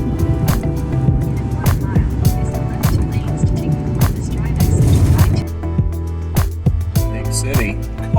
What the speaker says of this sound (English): it's like a constant flow of traffic